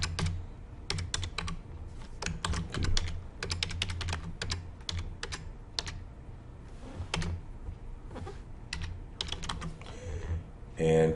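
Close computer keyboard typing while entering data in QuickBooks-related accounting software, with irregular bursts of key clicks and short pauses throughout.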